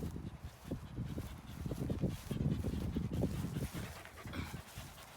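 Several puppies, one a dog called Dash, pant and whimper with scattered yips and barks, close and fairly loud throughout, as they play fetch with a ball.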